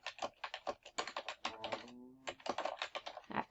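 Typing on a computer keyboard gives a steady run of close, crisp key clicks with a short pause in the middle, with no talking.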